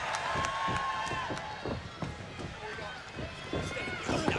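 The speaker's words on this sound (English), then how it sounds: "You can hear how the crowd loves Eric Young." Wrestling arena crowd at a TNA pay-per-view event cheering steadily and loudly throughout, a sustained roar with scattered shouts and claps beneath it.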